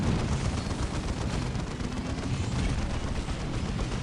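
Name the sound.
orbital bombardment in the video game Dawn of War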